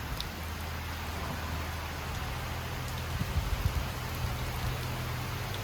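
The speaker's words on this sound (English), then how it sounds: "It's raining all right." Rain falls steadily at a camp, a dense even hiss of drops striking surfaces with a low rumble underneath and no voices.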